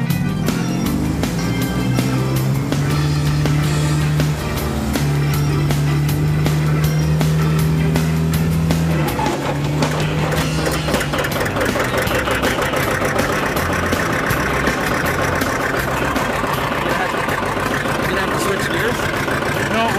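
A tractor engine is started with choke and starter button, then settles into a loud, steady, rumbling idle that carries on close by, with people talking over it.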